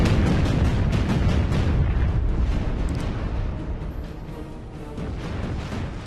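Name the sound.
naval guns firing at a battleship in the video game Battlestations: Pacific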